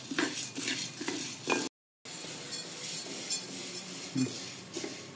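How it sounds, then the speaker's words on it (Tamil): Chana dal and toor dal dry-roast in a pan for homemade sambar powder, grains rattling and scraping as a spoon stirs them repeatedly, with a brief gap of silence. "இது வந்து ரெண்டும் நல்ல செவக்க வறுக்கணும்"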